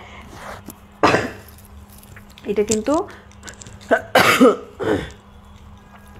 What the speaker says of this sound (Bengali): কাশি হয়েছে অনেক